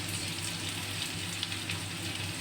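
Green, red and yellow bell peppers stir-frying in a pan, a steady dense sizzle with faint crackles running throughout, fairly close and without talk.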